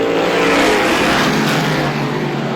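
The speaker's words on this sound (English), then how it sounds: "Hinckley is all over the back bumper of Nocella." Race car engines roar continuously at high pitch, loud and sustained, as cars speed around Star Speedway in SBM 125 heat races, with no voices.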